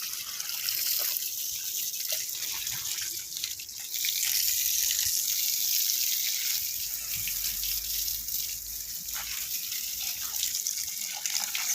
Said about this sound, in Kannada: ಹಾಗೆ ನೀರು ಹಾಕ್ತಾ ಇದ್ದೇನೆ.